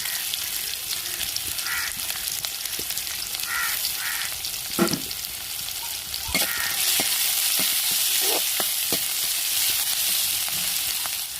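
Onion, ginger and garlic fry in a pan with curry leaves for a squid gravy, producing a loud, continuous sizzle punctuated by sharp spatula scrapes and clinks that grow more frequent toward the end.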